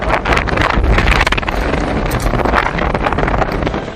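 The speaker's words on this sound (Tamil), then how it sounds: "கோவை கணுவாய் மருதமலை செல்லக்கூடிய சாலையில் புழுதி காற்று சுழன்றடித்தது" Strong gusting wind roars across a road on the Kanuvai–Marudhamalai route near Coimbatore, swirling dust in a loud, continuous buffeting rush with no pauses.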